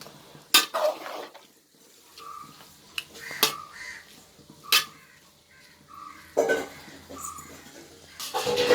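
Chicken biryani rice being stirred lightly in a metal pot: a handful of separate scrapes and clanks of the spoon against the pot, while crows caw repeatedly in the background.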